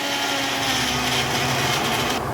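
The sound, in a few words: mixer grinder grinding tomato mint chutney paste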